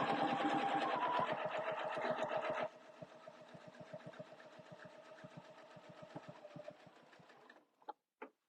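A sewing machine quilts along a template ruler, starting with a loud, fast, even stitching hum that drops to a quieter, slower rhythmic run before stopping with a few final isolated taps, close and without talk.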